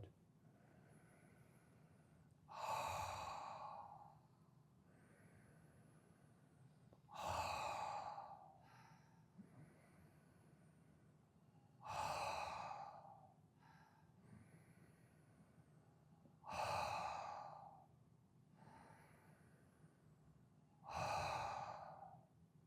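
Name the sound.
slow breathing, inhaling through nose and exhaling through mouth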